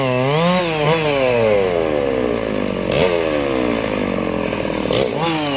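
Several STIHL 660 chainsaws cut into a huge tree together, their engines roaring loudly and continuously with overlapping rising and falling pitches as the throttles rev and bog in the wood.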